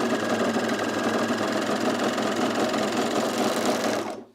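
A sewing machine stitches the underarm seam of a color-block top in a loud, steady, fast mechanical whir that runs without pause for about four seconds before stopping abruptly.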